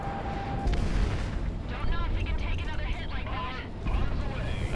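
Explosion in the aerial combat game Project Wingman, a heavy, booming blast with rumbling aftermath under an excited voice talking over it.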